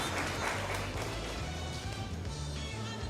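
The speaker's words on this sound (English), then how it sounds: "So give them a round of applause, please." Steady applause from a crowd at the launch of NGC SANFEST 2014 in Trinidad and Tobago, dense clapping continuing throughout with faint music underneath.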